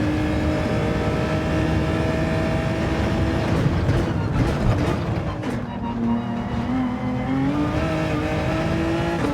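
A race car in Gran Turismo 7 with traction control switched off revs and accelerates, its engine note climbing, dipping and climbing again in sustained whining tones, loud and close throughout.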